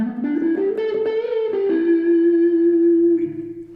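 An electric guitar with high-output pickups, both pickups engaged, rings out loud and slightly distorted from high gain, a few picked notes settling into one long sustained note.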